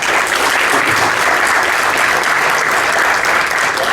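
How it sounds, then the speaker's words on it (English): Steady, dense applause from a conference audience after a developer talk at Droidcon Lisbon, continuous and loud throughout with no speech. "Hands of applause,"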